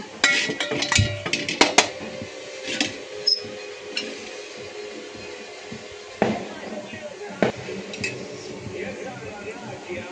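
A metal cooking pot being handled and set down on a stove, with close clanks and clinks of metal and utensils, scattered knocks and a speaking voice in between.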